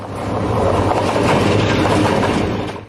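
A train runs along rails with a loud, steady rumble and faint clickety-clack of wheels. The sound stays close and continuous before cutting off abruptly, with no talking.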